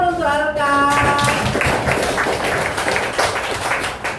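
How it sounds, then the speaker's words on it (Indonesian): A classroom of pupils applauds a classmate, a dense, loud, continuous patter of many hands clapping, with a teacher's voice heard briefly at the start. "Tepuk tangan untuk Alka."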